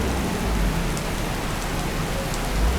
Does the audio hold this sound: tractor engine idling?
no